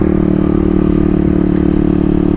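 A Kawasaki KLX250 motorcycle riding over speed bumps, its engine droning steadily and loudly up close throughout, with a faint clatter running underneath.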